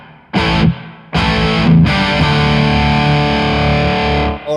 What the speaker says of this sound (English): And maybe add a little reverb to the crunch.